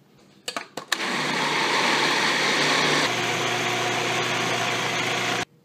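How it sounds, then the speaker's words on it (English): Food processor whirring through pine nuts, lemon juice, Himalayan salt, green onions and lecithin for a raw pine nut cheese: a few clicks, then a loud steady motor drone for about four and a half seconds that cuts off abruptly, with no talk. "here's all the cheese ingredients in the food processor"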